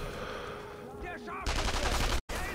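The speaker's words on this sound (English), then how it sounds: "He's got a turret!" An enemy turret machine gun in the World War II shooter Sniper Elite V2 opens up in a loud, dense burst of rapid fire that briefly cuts out, with a voice talking over the game sounds.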